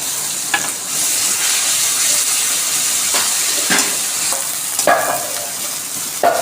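Garlic and onion paste fries with browned onions in a hot pan, a loud close sizzle and steam hiss with several bursts of crackling and scraping as a spoon stirs the mixture; no voices.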